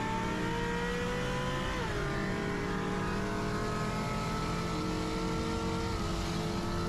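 A 1999-2004 car with a Coyote engine swap revs hard during a drag run, a loud continuous engine roar climbing through the gears with brief pitch drops at the shifts.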